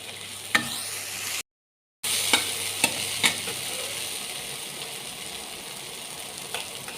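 Peanuts fry in a pan while bread pakoras are being made. A close, even sizzle is broken by a few sharp utensil taps and a short gap of silence, with no talking.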